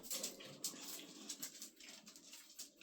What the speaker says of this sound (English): Come down this end of the hallway, please, dogs.